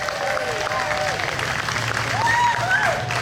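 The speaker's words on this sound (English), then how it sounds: "let's give everybody another round of applause" Applause and cheering from the crowd at a women's rally in Wilmington, steady and close, with voices calling out over the clapping.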